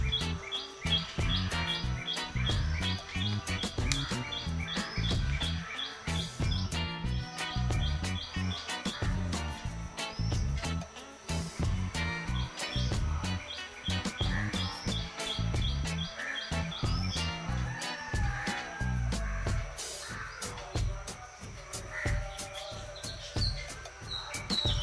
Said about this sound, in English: Very cute bird outside.